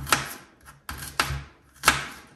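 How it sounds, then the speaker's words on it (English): Small onions chopped on a cutting board, four sharp knife strikes in an uneven rhythm, close and distinct with quiet gaps between them. "Let's chop our onions."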